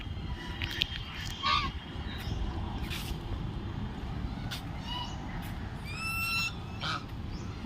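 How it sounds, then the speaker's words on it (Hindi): Scattered honking and quacking calls from ducks at a pond in Kanpur, some near and some farther off, over a steady low outdoor rumble with occasional faint voices. "बहुत बतखें हैं।"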